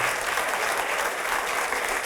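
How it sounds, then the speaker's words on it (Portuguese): Church congregation applauding together, a dense steady wash of many hands clapping at once, fairly quiet and continuous throughout. "Vamos aplaudir ao Senhor."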